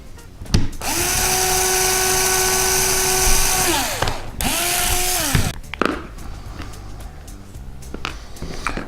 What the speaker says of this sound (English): And we're drilling through the pan and deck support